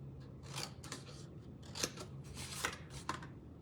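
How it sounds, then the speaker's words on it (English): Scissors snip paper repeatedly to cut small wedges into score lines, a quick series of close, crisp cuts with short pauses between. "Now I'm just going to quickly cut little wedges into the score lines"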